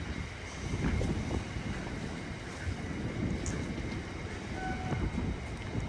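An intermodal freight train loaded with Mediterranean shipping containers rolls past at Harringay Green Lanes, giving a loud, close, continuous roar of wagons with rhythmic wheel clatter.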